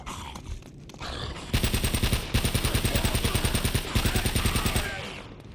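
MP40 submachine gun firing in Uncharted: Drake's Fortune, in a bunker: loud, rapid automatic bursts with a steady rattling rhythm, broken by short pauses between volleys.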